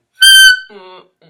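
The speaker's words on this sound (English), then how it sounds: "what you're doing is squeaking right now, which is what all clarinet players are notorious for" A clarinet lets out a sharp, shrill squeak from too much mouthpiece during a student lesson, one loud piercing burst followed by a softer, lower wavering tone, close and brief.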